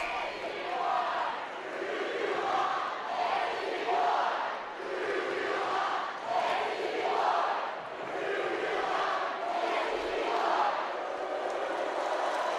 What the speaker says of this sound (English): The Quincy crowd still going. The student section starting with a QUI, and the family and everyone else ending in CY.